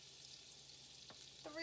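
Flour, three tablespoons, being stirred into melted butter in a pan as a roux, giving a faint, low sizzle with a couple of brief utensil scrapes near the end.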